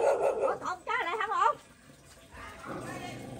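A dog gives a short run of wavering barks and yelps near people at a Vietnamese family home. The brief outburst stands out between stretches of background voices and noise.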